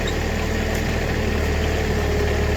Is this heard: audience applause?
no